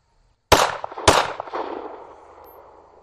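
Two sharp, loud pistol shots from a Glock fitted with an aftermarket trigger, fired one-handed about half a second apart, each with a long echoing tail that fades slowly.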